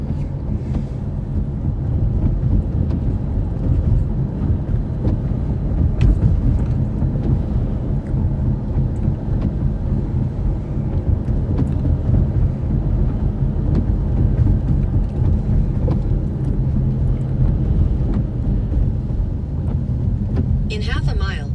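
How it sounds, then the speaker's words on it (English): Heavy wind from an Iowa storm buffets steadily past a moving vehicle, a loud low continuous roar with gusty surges, while road rumble blends underneath. "That wind is cranking like crazy now."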